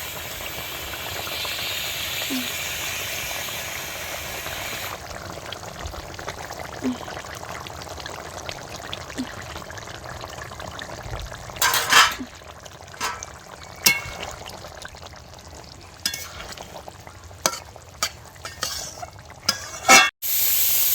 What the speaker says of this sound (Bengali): এই মাছগুলো এবার দিয়ে দেবো।